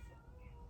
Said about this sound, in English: If you hear my cat in the background, I can't let this one in.